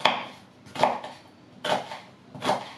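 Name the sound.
chopping onion finely with a knife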